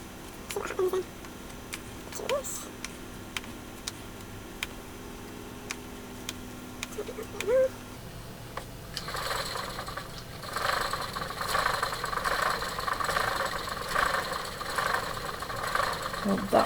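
NONA spinning wheel turning on its smaller wheel, first with a light, regular wooden ticking and knocking, then a louder, denser whirring rush for the remaining seconds.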